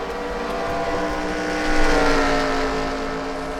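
Race cars lapping the track in an NRUK Euro Whelen Series round, a steady, loud engine drone with layered tones that swells briefly as the cars pass closer.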